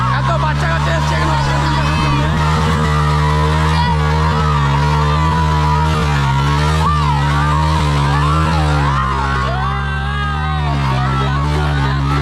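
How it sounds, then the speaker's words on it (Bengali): Yamaha MT and FZ motorcycles revving hard while climbing river sand, loud sustained engine drone with rising and falling pitch, under a large noisy crowd with constant talking and shouting. "এমটি এফজেড উঠা দিচ্ছে।"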